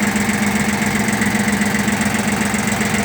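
A Shibaura SD2043 tractor's diesel engine idles steadily up close, a constant low rumble with an even, slightly knocking pulse.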